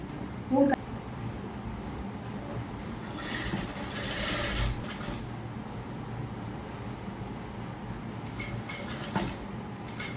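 A sewing machine stitching an understitch on a lining, running in steady whirring bursts nearby, with someone talking over parts of it.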